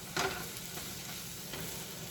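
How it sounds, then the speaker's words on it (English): Vegetables for a cheesy broccoli and rice casserole sautéing in a pan, a soft steady sizzle with a sharp scrape of stirring near the start and another faint stir later, no talking. "I'm going to saute that for about another minute or so"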